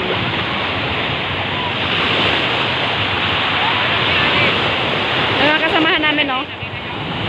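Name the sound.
strong sea waves crashing on the shore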